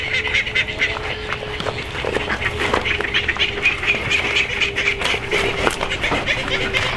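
Ducks quacking around an evening chore area, the calls repeating throughout with a steady outdoor background and some nearby voices and handling noise mixed in.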